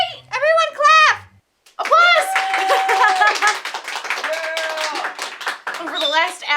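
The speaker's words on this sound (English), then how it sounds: "We did it right! Everyone clap!" A small group claps and cheers after a homemade popping boba experiment, with a voice and excited chatter running over dense, uneven claps that fill most of the moment.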